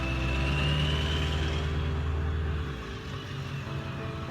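Steady traffic heard from an open park, a continuous close engine rumble from passing vehicles that eases slightly partway through, with no voices.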